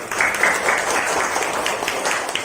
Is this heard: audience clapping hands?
yes